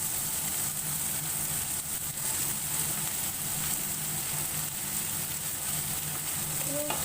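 Cut potatoes frying in a pan with cabbage and tomato sizzle steadily and loudly while being stirred, with a few faint utensil scrapes near the end.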